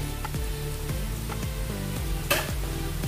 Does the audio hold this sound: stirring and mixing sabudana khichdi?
yes